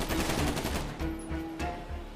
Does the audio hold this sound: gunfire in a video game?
yes